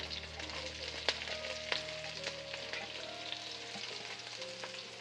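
Chopped onions and green chilies frying in oil in a pan, a soft continuous sizzle with occasional light clicks and scrapes of stirring, fairly quiet and close.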